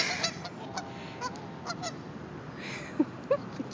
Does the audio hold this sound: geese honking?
yes